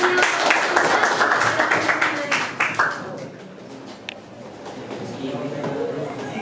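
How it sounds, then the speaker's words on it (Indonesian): Classroom applause for a presenting group of students, a dense patter of hand claps that starts loud and gradually thins and fades, with faint voices mixed in. "berikan tepuk tangan"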